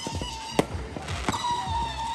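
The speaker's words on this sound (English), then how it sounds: "We got fireworks going off down there." Fourth of July fireworks pop and crackle nearby in a quick string of sharp bangs, one louder blast standing out among the others, with faint echoes trailing after each burst.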